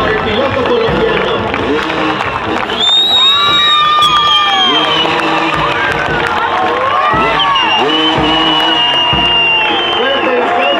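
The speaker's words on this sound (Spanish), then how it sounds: "Un fuerte aplauso también para el piloto colombiano." A loud crowd at a motocross event opening in Fresnillo cheers and applauds, with shouting, whistles and excited voices layered over continuous clapping throughout.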